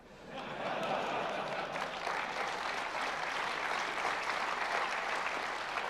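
A large audience at a developer conference session applauds steadily, a dense, even wash of clapping that holds at full strength for about six seconds.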